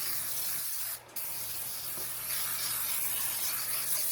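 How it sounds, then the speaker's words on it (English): A steady hiss of non-stick cooking spray from an aerosol can into a 9x13 baking dish, close up, with a brief pause before spraying continues. "Some non-stick spray."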